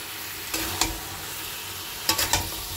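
Potatoes with spices stir-fried in a pan, a steady sizzle with a few scraping stirs of the spoon, close and alone.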